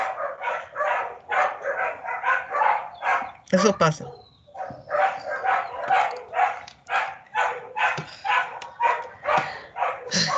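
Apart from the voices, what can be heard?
dogs barking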